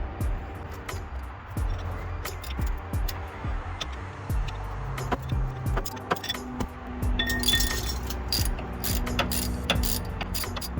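Ratchet clicking while unbolting the front subframe of a 1994-98 first-generation Honda Odyssey with the F23A engine, a steady run of metallic pawl ticks and clinks close by with occasional tool knocks.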